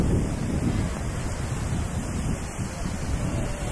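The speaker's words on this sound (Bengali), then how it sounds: "সমুদ্রের ঢেউটা একটু দেখে নাও," Sea waves roll in at Puri beach around sunrise, a steady loud wash of surf mixed with heavy wind rumble against the microphone.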